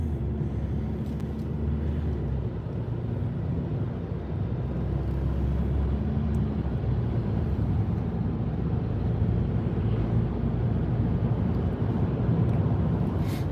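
A Ford Focus 2.0 TDCI diesel engine with automatic transmission drones and climbs through the revs while driving, a steady loud low rumble from inside the car with no talking over it.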